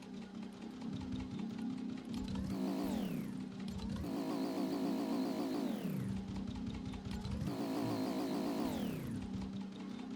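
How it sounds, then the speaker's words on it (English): A car engine in Fortnite revs repeatedly, rising in pitch and cutting back in three long sweeping pulls over a steady low drone, loud and without talk. "That engine sounds weird."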